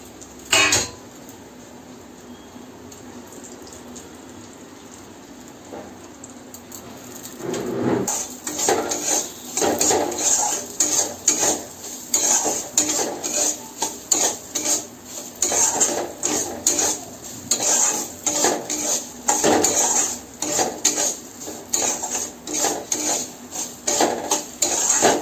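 Cashews and raisins sizzle in ghee with semolina in a pan, with repeated scraping and clinking of a spoon against metal cookware, fairly close and steady throughout with no talk.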